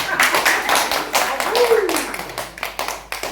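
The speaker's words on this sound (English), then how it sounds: "Clap for me." A small group of people claps during a courtesy visit, producing uneven, separate hand claps close by, with voices talking over them.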